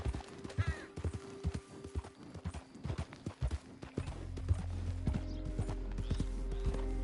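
Horse hooves clip-clop in a steady trotting rhythm while riding in the video game Red Dead Online, with a louder continuous low rumble setting in over the second half and no speech.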